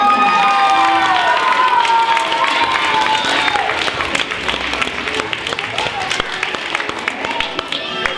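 An elementary school audience applauds and cheers after a 4th and 5th grade Wizard of Oz stage performance, with a bright shout rising above dense clapping at the start and steady clapping continuing throughout.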